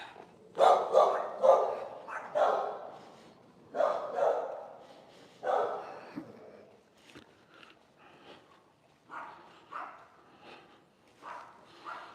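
A big dog in a flat near a fishing-village beach barks repeatedly at a distance, with irregular bursts of deep woofs across the span, fairly faint and echoing.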